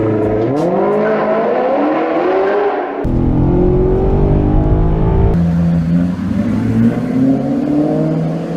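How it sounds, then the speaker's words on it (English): A Maserati GranTurismo engine revs loudly and close, its pitch sweeping up through several rising pulls with a sharp shift in tone partway through, sustained and unbroken with no voices. "we're talking about the Maserati Granturismo"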